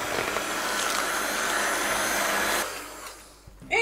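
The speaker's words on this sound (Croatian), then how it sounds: "sada to lijepo mikserom spojimo tako da postane onako fina jedna jednolična krema" A steady whirring electric mixer blends cream with mascarpone cheese for a few seconds, then cuts out, followed by a short clatter.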